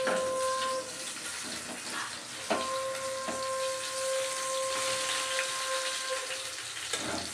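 Prawn pakoras sizzle steadily in hot oil after being flipped to fry the other side, a dense continuous hiss with a faint tonal whine and a couple of brief clatters.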